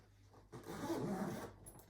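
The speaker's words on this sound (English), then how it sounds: "I'm going to do these 2 zippers next" A single quiet zipper pull on the fabric cover of a Cybex Balios S Lux stroller, a short rasping zip lasting about a second, close by with no voices.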